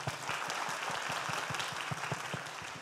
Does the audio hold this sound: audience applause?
yes